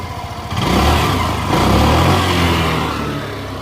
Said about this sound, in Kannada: ಈಗ ಸ್ಟಾರ್ಟ್ ಮಾಡ್ತೀನಿ ಸೌಂಡ್ ಕೇಳಿಸ್ತಾ ಈಗ.